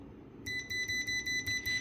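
A UNI-T UT61E+ multimeter in continuity mode gives a series of about six short, clear electronic beeps in quick succession, fairly loud over a quiet background hum.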